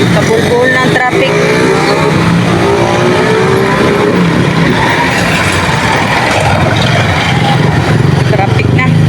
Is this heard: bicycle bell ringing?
no